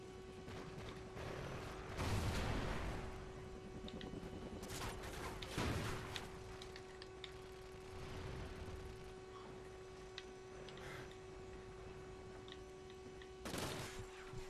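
Gunfire bursts from the shooter game Ghosts, a few sharp broadband bursts spaced several seconds apart over a steady hum, moderately loud and with no talk.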